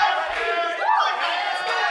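Spectators at an RWA Legacy VI wrestling match cheer for the Strong Style Express in a dense, sustained roar. The noise stays loud and even throughout, with a few shouts breaking through.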